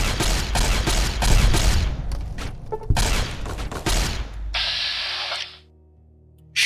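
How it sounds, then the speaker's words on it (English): Enemy gunfire in Fallout: New Vegas Old World Blues, loud close bursts of rapid shots in several volleys, ending in a hissing spray before silence. "somebody's shooting at us"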